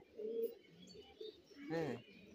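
A white pigeon coos in two short bursts, fairly close and clear over a quiet background with faint chirps.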